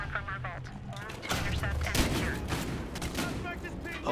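Shotgun firing slug rounds in Battlefield Hardline: loud, sharp repeated blasts with overlapping gunfire from a busy multiplayer match, punctuating continuous game noise throughout.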